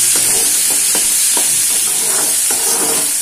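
Chopped tomato tipped into a hot frying pan of beans and carrot poriyal gives a loud, continuous sizzling hiss, with a few soft stirring scrapes repeating roughly every half second or so; no talking.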